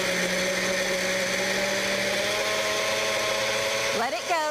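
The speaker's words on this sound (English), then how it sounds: "And just blend it up." A blender blends a banana smoothie with a loud, steady motor whine up close that holds constant, then its pitch wobbles and shifts near the end as the load changes.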